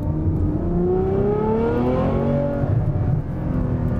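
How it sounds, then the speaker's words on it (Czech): A Ferrari F12 Berlinetta with its 6.3-litre V12 revs hard after a downshift to second gear, the engine note climbing in a rising howl close to the microphone before settling back, with no talk over it. "to znamená teďka podřazuju na dvojku"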